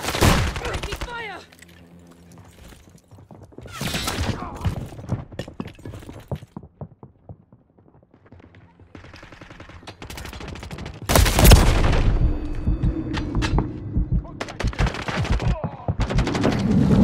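Gunfire in the Call of Duty video game, with repeated bursts of rapid automatic fire and single shots, loud and close, separated by quieter gaps, while a player talks over parts of it.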